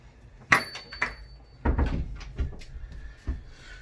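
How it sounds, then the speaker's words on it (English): A door in a home is pulled shut with a sharp, close thud, followed by a few lighter knocks and handling rustles. "I'm gonna shut the door."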